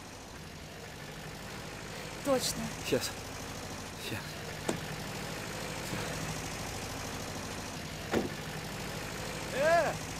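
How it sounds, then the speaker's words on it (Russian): A tractor engine idles and rumbles steadily nearby on a rural road, a low continuous drone with a few brief sharp sounds on top, while people speak over it. "Кажется, трактор, смотри."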